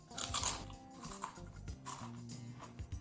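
Close, crisp bites and chewing of thin homemade copycat Cheez-It cheese crackers, several crunchy snaps followed by quieter mastication, recorded near the mouth.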